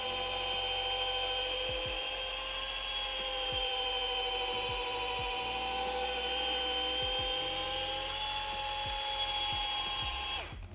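A car polishing machine runs at its lowest speed, giving a loud, steady whirring whine with a low hum beneath it. It continues unbroken for nearly the whole stretch before cutting off at the end.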